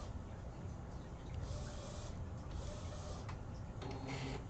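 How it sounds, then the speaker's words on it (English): A 3880 DTF printer runs a print job, giving a steady mechanical whir with a few brief clicks and shifts in texture, fairly quiet and continuous throughout. "I guess it's trying to print something, not clean something"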